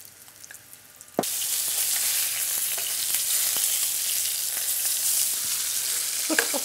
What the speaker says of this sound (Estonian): Ja pann tegelikult ei tohiks olla ka liiga kuum, et maksika praeb ilusti läbi.